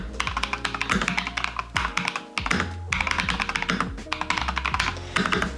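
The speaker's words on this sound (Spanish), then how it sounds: "este teclado me encanta, realmente me encanta el sonido" Keys clack steadily on a computer keyboard for an iPad, a rapid close-up run of crisp, loud keystrokes with brief pauses between bursts.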